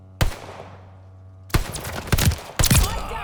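An Owen gun in Call of Duty Vanguard cracks off sharp, close shots: one loud report with a long ringing decay, then a quick cluster of bursts a second later.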